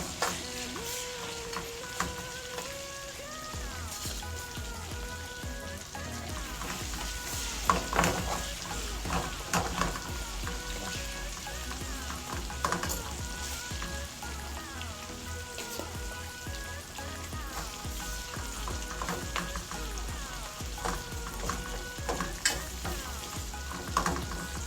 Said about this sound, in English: my chicken back is now fried. I'm now going to add some onion, sweet pepper, thyme and scallion on it